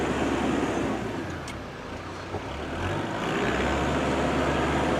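A 2009 New Holland T4050F tractor engine runs steadily after a gear shift, a dense, loud low rumble with a brief dip in level midway before settling back to an even drone.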